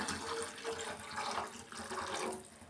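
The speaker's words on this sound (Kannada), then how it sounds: "ನೀರು ನಮಗೆ ಎಷ್ಟು ಬೇಕೋ ಅಷ್ಟು ಸೇರಿಸ್ಕೊಳ್ಳೋಣ" Water is poured into tamarind rasam, a gentle continuous splashing and trickling that rises and falls in soft waves, quiet and close, with no talk.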